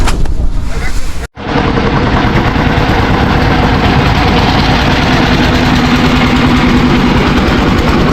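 A reserved tourist boat's engine runs steadily at close range near Bholaganj's white-stone area, a loud continuous low drone with vibration, briefly cut out early on before resuming without pause.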